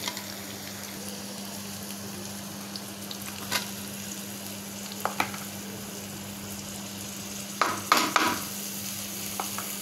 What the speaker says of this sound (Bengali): তাই আমি হালকা করে একটু ভেজে নেওয়ার চেষ্টা করছি।